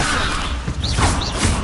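A levitation spell cast in the Hogwarts Legacy video game gives a short magical shimmer with creaking, mechanical textures and a couple of rising and falling swishes over a dense, steady wash of sound.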